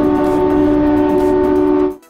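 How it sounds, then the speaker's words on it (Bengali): The Kalka–Shimla toy train sounds its horn as it departs: one loud, sustained, steady blast lasting about two seconds before cutting off abruptly. "5:43-এ আমরা ট্রেনে উঠেছি, 5:45-এ ট্রেনটা ছাড়লো"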